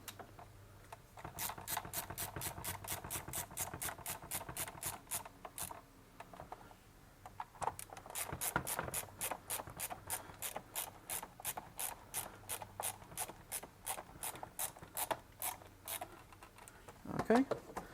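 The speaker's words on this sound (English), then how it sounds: "So while I'm holding it, I'll get one screw in the front here" Screw being driven into the plastic housing of a Ryobi leaf blower during a repair, a steady run of close, rapid ratcheting clicks with short pauses, continuing for most of the span.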